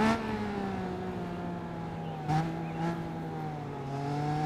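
A Triumph Street Triple RS motorcycle, 2020 model, in a video game: a steady engine drone holding a high, even pitch with slight dips as the rider shifts, continuous and loud without any talk.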